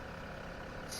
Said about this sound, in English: I'm gonna let y'all listen to the bus